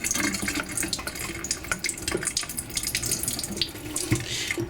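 Tap water runs steadily into a kitchen sink as rice is rinsed, with close splashing and gurgling, broken by brief changes where the stream hits the grains and the bowl.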